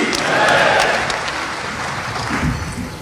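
An audience in Raipur applauds to welcome guests, including Amit Shah, at a discussion of the book Modi @ 20. The dense crowd clapping swells early, then holds steady at a loud, close level.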